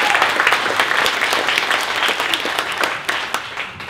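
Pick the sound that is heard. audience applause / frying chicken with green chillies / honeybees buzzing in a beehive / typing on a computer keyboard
audience applause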